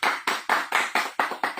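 Steady, rhythmic clapping at a radio station's 15th anniversary celebration for Super FM-90 Bahawalnagar, about eight crisp, evenly spaced claps heard close and loud with no talking.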